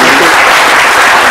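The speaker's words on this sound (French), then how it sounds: "Allez, on vous porte tout de suite par nos applaudissements." A studio audience bursts into loud, dense applause, a short continuous burst of clapping close at hand.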